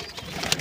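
Racing pigeons in a loft, young birds from last month's set, cooing softly amid a continuous hiss of background noise, with a brief brighter chirp near the end and no talking.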